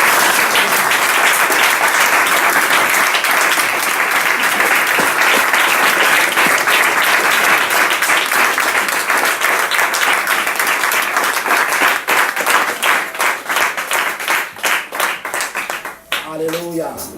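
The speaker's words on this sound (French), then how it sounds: "Acclamez le Seigneur," A church congregation applauds loudly and continuously, dense clapping filling the space, thinning near the end as a voice begins to speak.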